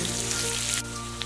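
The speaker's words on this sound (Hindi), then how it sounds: "ओनियन और कैप्सिकम को हल्का सा फ्राई करेंगे।" Onion and capsicum frying in a pan for Indo-Chinese chili chicken, a steady close hiss of sizzling oil that continues evenly throughout with no talking.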